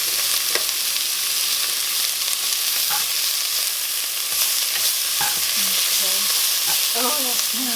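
Onions frying in a pan for fried cabbage, a steady close sizzle broken by the scrape and clack of stirring at intervals, with no talking.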